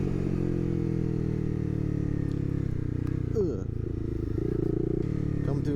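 Motorcycle engine idling and rolling off at low speed as the clutch is released on a street ride, a steady close low hum with a slight dip in pitch and faint rattles.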